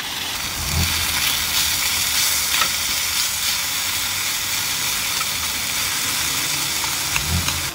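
Tofu, butternut squash and okra fry in a pan on a stove in a van: steady close sizzling and crackling hiss with occasional clinks and scrapes of stirring, no talk.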